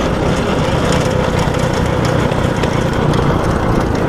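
A motorcycle chain knocks against the frame while riding, a constant loud engine drone with dense rattling and clattering throughout and no voices.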